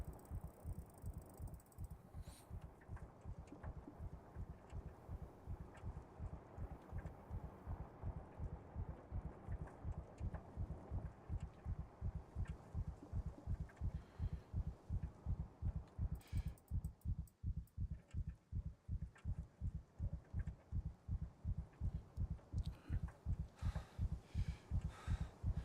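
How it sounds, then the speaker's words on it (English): A loud, steady heartbeat from the survival game SCUM thumps in a continuous, even rhythm of double pulses throughout, with faint mechanical clicking in the background. "heartbeat sound can get loud"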